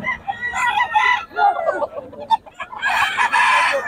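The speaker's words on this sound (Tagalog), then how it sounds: "Ayan o, solid mga manok ng Boss Christian din." Several chickens cluck and a rooster crows loudly nearby, with overlapping calls filling the clip and a strong crow near the end.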